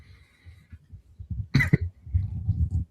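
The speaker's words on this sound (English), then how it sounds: "cough right when I'm about to intro" A single sharp cough close to the microphone, preceded by soft breathing and low murmuring.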